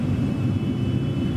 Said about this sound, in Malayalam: വിമാനം താഴ്ന്നു പറക്കുകയാണ്.